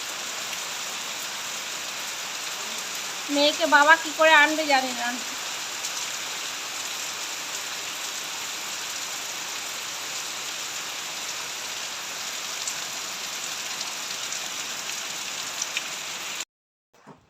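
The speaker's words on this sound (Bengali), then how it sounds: "দেখো কি মুসলধারে বৃষ্টি হচ্ছে যত বেলা হচ্ছে ততই বৃষ্টির জোরে আসছে" Heavy monsoon rain pours down in a steady, dense roar that fills the whole scene, with a voice talking briefly near the start before the downpour cuts off abruptly at the end.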